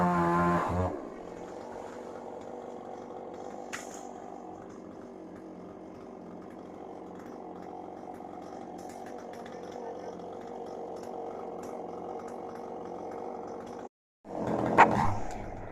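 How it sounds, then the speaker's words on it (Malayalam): A chainsaw cuts down a mango tree in a yard, its engine droning steadily for most of the time with a brief break near the end before revving again. "ഈ മാവ് വെട്ടിയപ്പോൾ നമുക്ക് നല്ലൊരു വിഷമം തോന്നി."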